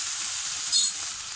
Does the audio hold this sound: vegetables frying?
yes